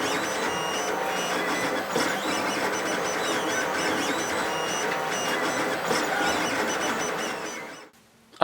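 3D printer printing brackets, a continuous close whine of stepper motors with shifting tones and small clicks, running steadily before cutting off abruptly near the end, with no talking.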